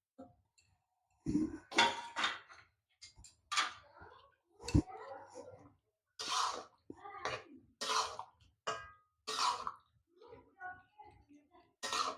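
Boiled pasta stirred in a pan for a white sauce, giving sparse, sharp clicks and clinks of a utensil against the pan. Short bursts of talk come and go between the quiet gaps.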